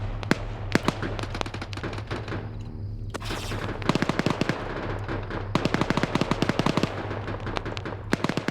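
Video game gunfire, rapid bursts of sharp automatic shots in quick rhythmic strings, moderately loud and close, with a brief lull midway before dense volleys resume.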